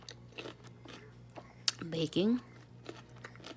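Biting and crunching into a hard, unripe peach, close crisp crunches and chewing with a person speaking briefly over them.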